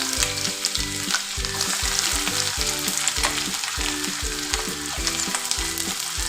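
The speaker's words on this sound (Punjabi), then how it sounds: "ਉਸ ਤੋਂ ਬਾਅਦ ਆਪਾਂ ਐਡ ਕਰ ਦੇਣੀ ਹੈ ਜੀ ਪਿਆਜ਼" Onion frying in a garlic tadka for Punjabi saag, a loud, dense sizzle with constant crackling, while a regular low rhythmic thumping pattern runs underneath throughout.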